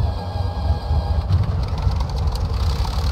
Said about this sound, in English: we can engage the starter and just listen to the engine sounds, really excellent